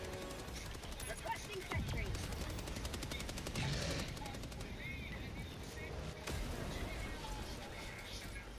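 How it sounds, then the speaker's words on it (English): Turret gunfire rattles in the Helldivers 2 video game, rapid automatic bursts crackling over a dense, noisy battle mix, with players talking over it. "Somebody's turret's shooting at him."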